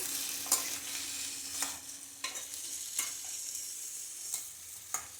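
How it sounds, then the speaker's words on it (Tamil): Yellow pumpkin sautés over a medium flame in a pan, a soft steady sizzle broken by regular scraping stirs of a spoon about once a second, close and with no voices. "இது கொஞ்சம் வதங்கட்டும்"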